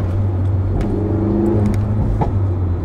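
Alfa Romeo Giulietta Veloce 1750 TBi turbo engine running close and steady, a low droning hum with faint rises in revs, no voices over it.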